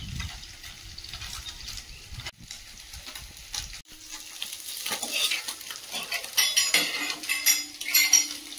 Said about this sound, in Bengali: মাছগুলো ভাজা হয়েছে, তুলে নিয়ে বাকিগুলো ভেজে নেব